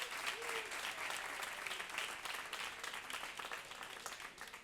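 Steady applause from an audience at a short film festival closing gala fills the whole stretch, dense and even, with the clapping slowly thinning toward the end.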